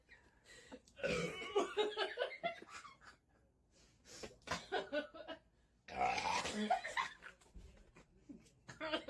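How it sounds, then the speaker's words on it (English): Burping after gulping Sprite, several loud, guttural belches in bursts with coughing and laughter between, heard close up amid quieter gaps. "This is where the burping starts."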